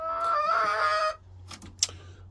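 A chicken gives a drawn-out, tonal clucking call outdoors, followed by a couple of softer short clucks and a brief sharp peep, heard close over a low steady hum.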